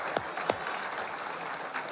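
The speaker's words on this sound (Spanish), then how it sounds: "Levantemos un aplauso los que nos vamos a ir con el Señor" A few sharp claps ring out over a steady roomy wash of crowd noise, like scattered applause in a large hall during a church sermon.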